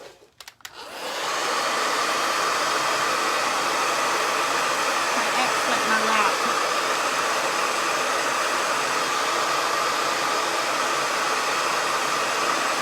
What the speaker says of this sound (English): so I'm gonna hit this with a blow dryer